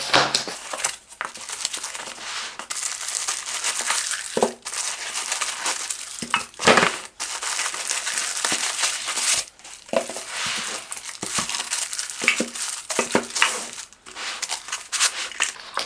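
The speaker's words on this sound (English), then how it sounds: "So let's open the box to find out more about this product" Cardboard packaging for a COFO Zero Gravity Monitor Arm ProClip 2 crinkles, crushes and tears as the box is opened, in close, busy bursts with brief pauses throughout.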